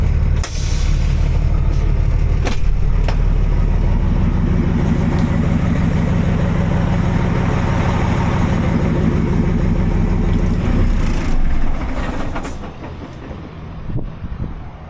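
A Paystar 5600 TS truck in the video game SnowRunner idles with a steady, loud, deep diesel rumble, interrupted by a few sharp clicks, before easing off slightly near the end.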